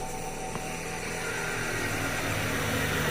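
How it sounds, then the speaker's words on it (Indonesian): A motorcycle passing by outside an old abandoned colonial-era house, a steady engine drone that swells gradually as it nears, with no talking. "ada motor lewat"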